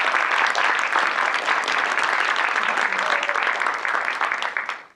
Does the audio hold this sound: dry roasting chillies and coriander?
no